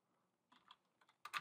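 Light keystrokes on a computer keyboard, a few soft taps ending in a louder quick cluster, typed while entering a terminal command to start a Kafka Zookeeper server.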